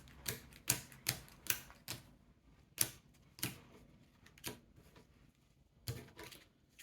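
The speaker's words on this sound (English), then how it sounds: "I'm just going to give it a quick shuffle off camera" A deck of Imperium board-game cards is shuffled quietly nearby. It comes as a scattered run of sharp, dry snaps and short riffling bursts with brief pauses between them, and no voice over it.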